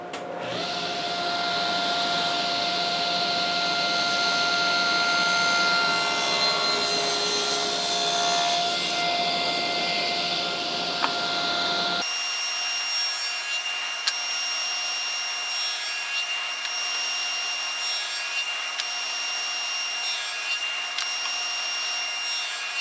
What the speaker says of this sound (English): back to the table saw, and you can see the marks on there where I'm going to be making the cuts